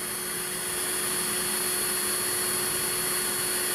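A Hiroki HRCBP21SET cordless impact drill and polisher running at speed 1, about 387 rpm, giving a steady even motor whine and hum that stays unchanged and fairly faint throughout.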